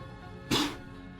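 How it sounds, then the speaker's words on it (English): A short sneeze-like burst from the commentator, close and abrupt over a low steady background during StarCraft 2 finals commentary. "Oh, sneeze. That's me."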